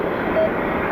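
Airplane taxiing to its gate at an airport, a steady low engine rumble and broadband roar held evenly through the moment with a little wind noise.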